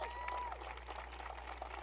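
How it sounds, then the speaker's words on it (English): An audience claps steadily in a big room at an MLS press conference, a dense patter of applause. "they really deserve a great round of applause from everybody here in the audience"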